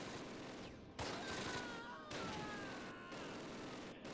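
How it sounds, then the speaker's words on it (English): A 2 cm gun fires in the Close Combat war game, dense rapid bursts of gunfire in several volleys, fairly faint and with short gaps between them. "so 2 centimeter, the gun's gonna open up on them"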